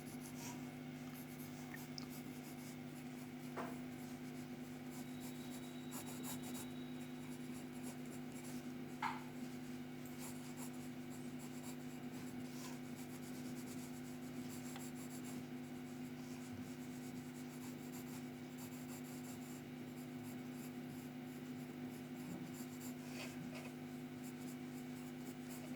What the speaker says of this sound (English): Very light pencil drawing so that you can do the correction easily.